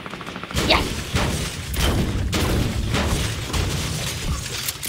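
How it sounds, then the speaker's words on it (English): Gunfire rattles in a video game, with repeated close shots and bursts spread through the clip under voices talking. "I'm getting shot at."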